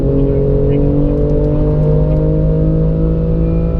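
A BMW M3 race car accelerating on a track, with a loud, steady engine drone heard from inside the car throughout.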